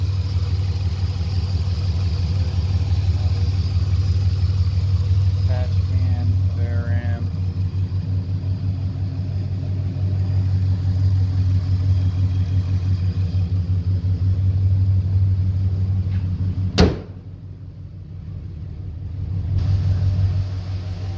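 A Dodge Ram idles with its exhaust cutout open, giving a steady, deep, loud rumble close by. A sharp click cuts in late, after which the rumble turns quieter.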